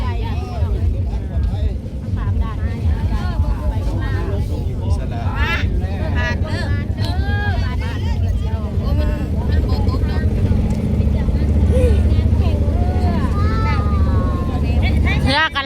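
A large cargo boat crossing the Mekong River gives off a steady low engine drone with wind buffeting, while people talk over it throughout.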